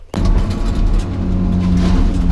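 Tigercat L830C forestry machine engine, a loud, steady heavy diesel drone that starts abruptly and holds at constant low rumbling pitch, close up and without talking.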